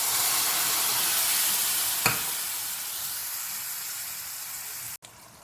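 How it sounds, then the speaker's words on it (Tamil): Onion tamarind kuzhambu sizzles steadily in a pan, a broad continuous hiss with one brief splash partway through as soaked tamarind water goes in, then a sudden cut before the frying resumes. "இப்போ கரைச்சி வச்சுருக்கிற புளியை அது உள்ளே நம்ம ஊற்றிடலாம்"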